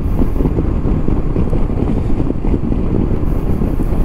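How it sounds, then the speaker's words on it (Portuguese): Strong, cold wind buffets the microphone outdoors in a loud, continuous low rumble with gusty roaring and no letup. "Tá um dia muito frio e ventando muito também."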